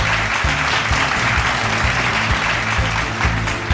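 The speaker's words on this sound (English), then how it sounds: "Give them a big round of applause." Large audience applause at a quiz competition's zone finals, a thick, continuous roar of clapping with steady low thumps underneath, sustained at even loudness from start to finish.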